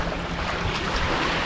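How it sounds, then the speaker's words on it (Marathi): A boat moves across the sea off Devbag near Malvan, with a loud, constant rush of wind and water and no voices. "ही आमची बोट आहे"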